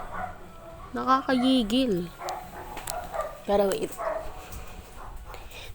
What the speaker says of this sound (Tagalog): Ang ingay ng aso dito,